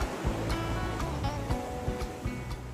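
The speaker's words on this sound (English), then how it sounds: "Massive breaking swell, breaking all around the mosque" Atlantic swell breaks all around a seaside mosque in Morocco, a loud steady roar of surf with repeated crashing bursts of waves close by.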